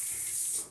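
A short, steady burst of dry shampoo sprayed onto hair, a bright close hiss that runs evenly and tails off at the end.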